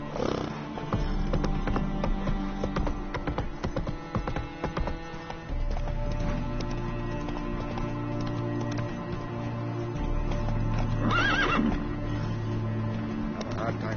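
Roach, a horse in The Witcher video game, gallops with continuous hoofbeats under a busy game soundscape of music and effects, with a brief snort or whinny later on.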